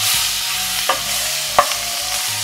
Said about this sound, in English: drop the butter in here. And let it melt a little bit. And drop our garlic.